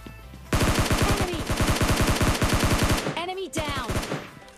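Rapid automatic gunfire from the mobile game PUBG Mobile Lite rattles off in a long, loud, evenly spaced burst, followed by a few scattered shots and metallic game effects.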